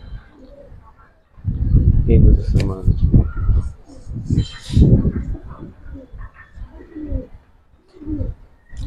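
Giribaz flying pigeons coo in low, rolling bursts close by, repeated through the scene while someone talks over and between them.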